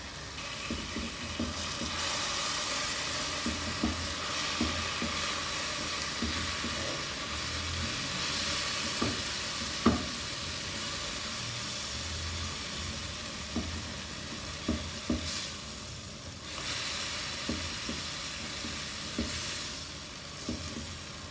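Roasted brinjal sizzling as it is mashed and fried in a pan, a steady hiss of frying with soft scraping and tapping from the spoon at irregular intervals, close and alone.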